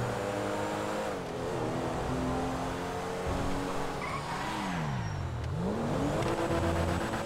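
Car driven in a GTA video game: a continuous engine drone with rising and falling revs and tire squeal through gear changes and skids, loud and close, with no talking.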